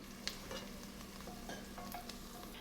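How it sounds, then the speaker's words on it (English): Onions brown in hot oil in a pot, a close, steady sizzle and frying crackle with occasional soft stirring scrapes and no voices. "I have onions in my pot browning for about 5 minutes"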